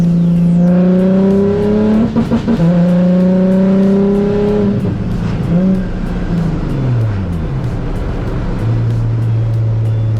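A Nissan 350Z drift car engine revs hard and loud with flat-foot shifting, the pitch climbing, dropping sharply at a shift, then settling into a lower drone.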